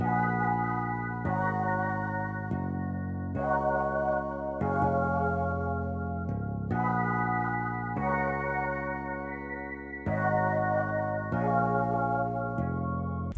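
A bouncy FL Studio beat made with an acoustic fretless bass preset, its deep sustained bass notes changing every second or two in a looping pattern under layered tones, steady and full, with no one speaking.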